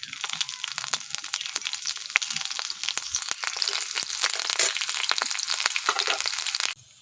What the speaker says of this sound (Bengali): এবার ফোড়নটাকে ভালো করে ভেজে নিচ্ছি আর দিয়ে দিচ্ছি কাঁচা লঙ্কা কুচো করে